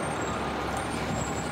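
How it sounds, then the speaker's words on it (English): Steady low rumble of a commercial garbage truck fresh off a restaurant trash route, idling at the scale house of the Del Norte recycling transfer station, a continuous broadband engine drone close by with no talk. "It's a commercial truck behind me here that just came off of a route picking up restaurants and other commercial entities' trash."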